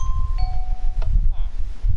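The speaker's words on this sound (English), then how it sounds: "There you go, doorbell." A Minecraft doorbell built from redstone and note blocks chimes a short two-tone ding over a low background rumble, with the notes ringing clearly and briefly.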